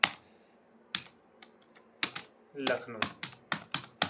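Computer keyboard typing while entering a company address in Tally Prime accounting software: clusters of close, crisp key clicks in short irregular bursts, with a brief spoken word at the start.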